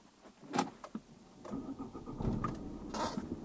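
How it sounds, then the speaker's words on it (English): A car engine cranks and starts inside the vehicle, with a short starter whir followed by the engine catching and settling into a steady idle, heard close and moderately loud. "Let's even start the engine."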